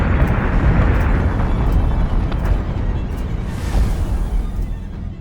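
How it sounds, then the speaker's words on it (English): Heavy, rumbling explosions from incoming missiles in the space combat game Battlestar Galactica: Deadlock, a dense continuous roar of blasts with several sharper bursts layered over it, loud and sustained throughout. "Missiles incoming!"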